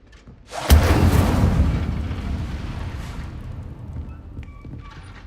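Incendio fire spell cast in the Hogwarts Legacy video game: a sudden loud whooshing burst of flame that roars steadily for a couple of seconds, then fades into a crackling tail with faint chimes.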